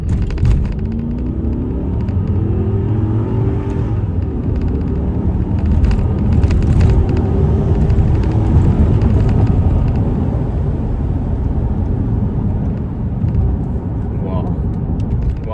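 A Mercedes-Benz CL500 grand tourer accelerating hard on the road, a steady deep engine rumble and roar filling the cabin throughout, with a voice talking over it.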